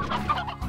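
Clucking of shrubland chickens in the video game Slime Rancher: a quick run of close, busy clucks and squawks over a dense background of game noise, with no talk.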